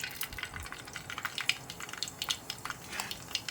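Mustard seeds and cumin spluttering in hot oil for a tempering, a busy run of small crackles and pops close by, steady and uneven across the clip with no talk.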